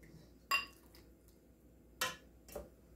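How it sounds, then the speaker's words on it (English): A ladle serving pumpkin soup from a Dutch oven into a bowl: three sharp metallic clinks a second or more apart, fairly close and clear over a quiet room with no talking. "We're going to put some into the bowl here with my ladle."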